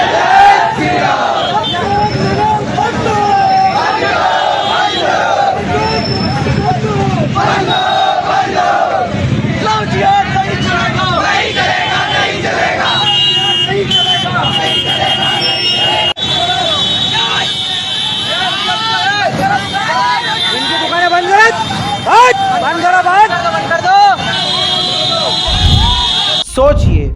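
Large protest crowd at a political rally chanting slogans in loud unison, a continuous roar of massed voices with rhythmic shouted phrases and babble throughout.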